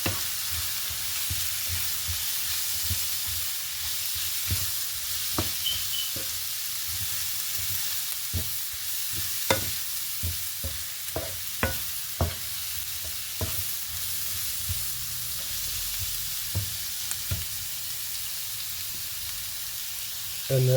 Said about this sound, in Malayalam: ഒന്ന് വഴറ്റി റെഡിയാക്കി എടുക്കാം.